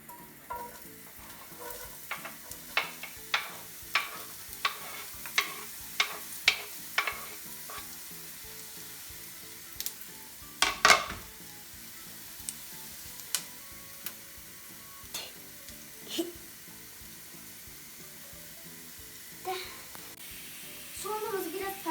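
Onions hit hot oil in a pot for borscht and settle into a soft, steady sizzle, punctuated by regular sharp taps and scrapes of a stirring utensil.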